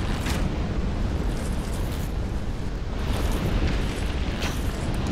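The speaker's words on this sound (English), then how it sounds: "Especially if there's barrels right there, so of course they're gonna explode them or something." Barrels explode in Dark Souls II, a sustained roaring rumble of blasts that swells and recedes over several seconds, dense and loud throughout with no speech.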